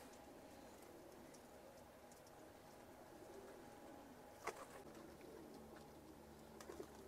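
Pigeons coo faintly in a quiet loft, soft low calls under a steady background hush, with a brief sharp clatter midway and a couple of small knocks near the end.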